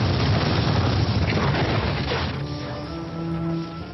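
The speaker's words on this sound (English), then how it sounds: "late one night there was a massive explosion" A massive explosion rips through a house beside Edinburgh's city walls at night, a loud sustained roaring blast that gradually thins out into a lingering rumble.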